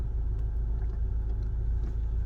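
A 2011 Ford Kuga 2.0 TDCi Zetec diesel idling with the clutch pedal dipped: a steady, low, even rumble heard close up from inside the car, unchanging throughout, with no voices.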